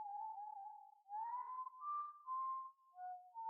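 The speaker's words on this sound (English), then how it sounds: "This whistling's going right through me." A lone, high-pitched whistling tone holds steady, then wavers and steps between pitches in short separate bursts, loud and clear with no other sounds.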